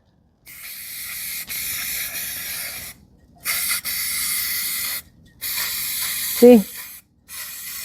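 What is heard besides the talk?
spray can spraying a coat of paint on truck part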